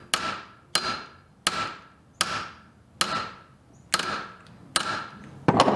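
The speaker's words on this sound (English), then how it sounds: "give it a few light taps with my hammer to spread this out." Light hammer taps on a bolt threaded in during a high-output alternator install, eight sharp metallic strikes at a steady rhythm, each ringing briefly, close and clear with no talking.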